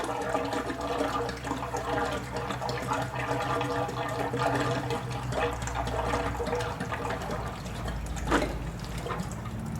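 Windshield washer fluid glugs steadily from a jug into the reservoir of a Volvo VNL 780 truck, a continuous close pouring and gurgling sound with no speech.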